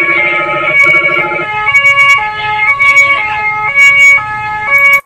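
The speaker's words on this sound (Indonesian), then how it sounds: "Tuh, ambulan lewat meminta kawan polisi karena jalan macet setelah diblokade oleh para pendemo." Wailing ambulance siren cycling between two tones, loud and close, on a jammed ring road in Karanganyar near Solo that protesting truck drivers have blocked, with faint road noise beneath.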